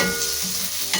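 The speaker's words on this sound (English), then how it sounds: "take your spatula," Sliced onion frying in hot oil, worked with a spatula in a pan, giving a loud, dense continuous sizzle with a brief scrape near the end, no talking.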